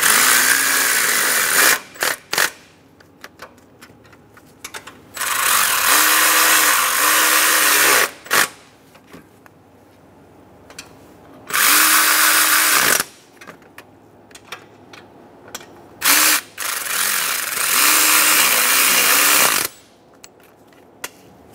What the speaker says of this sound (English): Snug down the four nuts.